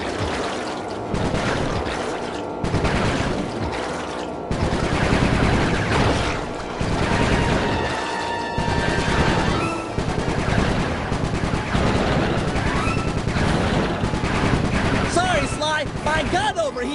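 Turret gunfire in the video game Sly 3 during a boat chase on a canal: long, dense bursts of rapid shots with short pauses between them, loud and continuous, with splashing water mixed in.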